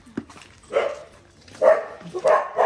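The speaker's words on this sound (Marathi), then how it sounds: "ए चाप्या बोलवते कुत्रा काय म्हणते." A dog barks several times close by, sharp separate yaps spaced unevenly over a couple of seconds, clear against a quiet background.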